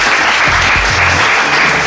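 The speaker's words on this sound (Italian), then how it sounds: "Facciamo un applauso" Loud, close applause from an audience at a modelling-contest selection evening, dense continuous clapping filling the whole stretch with a few low thumps underneath.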